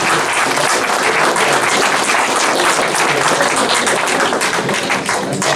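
Dense, continuous applause reproduced from an old Edison wax cylinder, loud and crackly with many overlapping claps sustained throughout, no voices.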